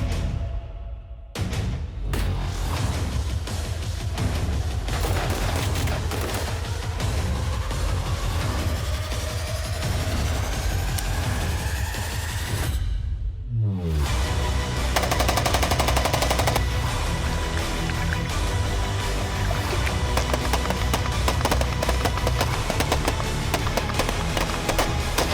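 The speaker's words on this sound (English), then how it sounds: "Range shooting" Springfield Armory Hellion rifle fired at an outdoor range, dense strings of rapid, loud close-up shots rolling on almost without pause, with a brief break in the middle before the firing resumes.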